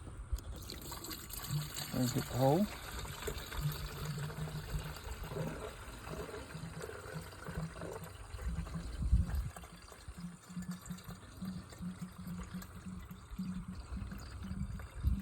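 Water poured into the radiator of a 2001 Ford Ranger, a soft steady trickle and dribble running throughout, with someone talking over it.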